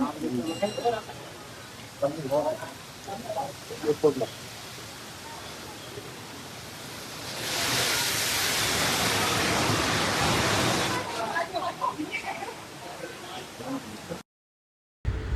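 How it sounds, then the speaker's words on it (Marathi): A waterfall near the Baba Dhansar temple rushes loudly for a few seconds mid-clip, a broad roar of falling water set between stretches of people talking. "मंदिराजवळ एक सुंदर वॉटरफॉल आणि गुहा आहे."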